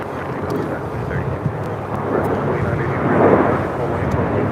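Airliner roaring down runway 25 right at LAX on a full-length takeoff, a steady broad rumble with wind buffeting, swelling slightly toward the end, heard from nearby with voices present.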